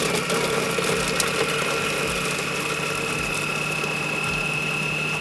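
Monsieur Cuisine Connect food processor running at speed 6 in auto mode, chopping shallot with olive oil, a steady loud motor whir with faint rhythmic thumps beneath, no talking.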